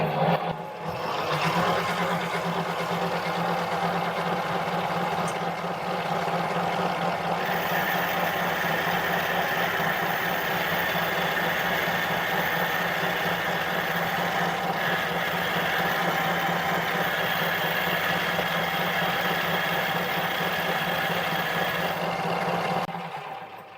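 A mini lathe with an upgraded big motor and variable speed drive bores out a bushing, running as a steady, loud mechanical drone with a whining tone for the whole stretch, no talk over it.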